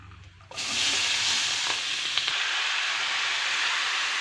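Shredded cabbage hits a hot pan of spiced oil and bursts into a loud, steady sizzle that holds on as frying continues, with a couple of faint knocks underneath.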